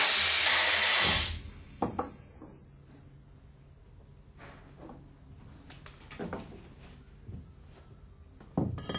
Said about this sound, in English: Release the compressed air.